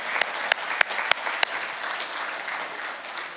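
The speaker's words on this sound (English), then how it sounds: "let's give you a round of applause" An audience at the opening session of an international World War II conference applauds, a steady mass of clapping with several loud, sharp claps from someone close by in the first second and a half.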